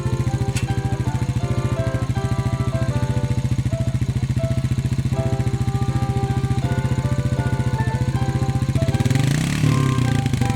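A four-wheel-drive vehicle stuck on a snowy or muddy slope idles loudly with a rapid, chugging engine pulse, steady and close, then revs up near the end as the driver gives it gas.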